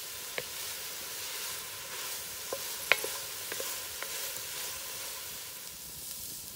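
Impala pieces and other ingredients browning in a potjie pot over a wood fire, giving a soft, steady sizzle with a few scattered clicks and scrapes from stirring.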